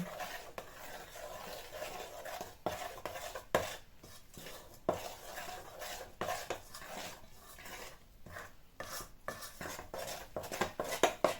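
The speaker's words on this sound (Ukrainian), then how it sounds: "беру звичайну ложку і все гарно розмішую" A spoon clinks and scrapes against a bowl in quick, irregular strokes, stirring thin crepe batter close by, with light kitchen clatter and no talking.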